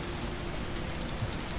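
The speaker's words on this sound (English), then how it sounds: "the pouring rain." Pouring rain in the video game Resident Evil 3 Remake makes a steady, dense hiss of falling water, soft and even throughout, with no voices.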